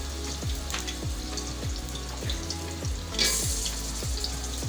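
Garlic fries in oil with a close, steady sizzle, while a regular low mechanical pulse repeats underneath and a brief hiss flares up near the end.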